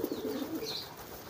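Kolong pigeons coo softly in a brief, faint low burble, a short phrase at close range with light background hiss.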